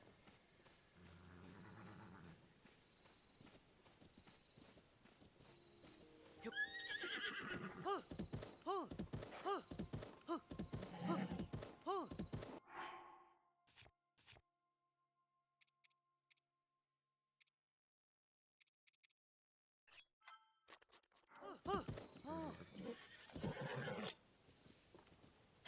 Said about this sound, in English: That's a big freaking horse.